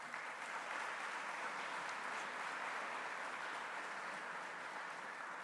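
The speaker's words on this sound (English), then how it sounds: "let's give him a round of applause" Applause fills a room at an AI lab and showroom launch, a faint, even wash of clapping from a crowd that holds steady throughout.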